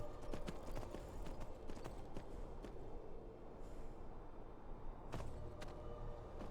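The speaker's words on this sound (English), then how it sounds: "seems like our horse clops have quieted down there because we're running on grass" Soft, muffled hoofbeats of a horse trotting on grass in Skyrim at night, in a steady rhythm, fairly quiet, with a few sharper thuds standing out over a low background hum.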